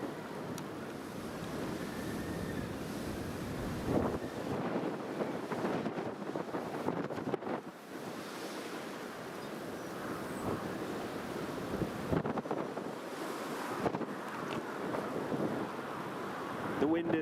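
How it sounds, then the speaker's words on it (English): Strong storm wind at Newcastle Airport during Storm Eowyn, heard as steady roaring buffeting against the microphone with gusty swells throughout. "The wind is right up the runway and has died down."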